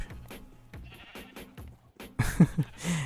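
Minecraft sheep bleating in a game, several close bleats that come faster and louder toward the end, over a bed of in-game clicks and footsteps.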